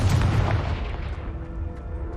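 A Confringo spell explodes in the Hogwarts Legacy video game, a loud deep boom with a rumbling burst that fades over about two seconds.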